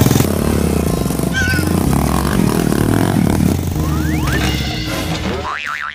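A motorcycle engine drones loudly and steadily at close range, its low rumble holding throughout, with a few springy twangs and sliding tones layered on top.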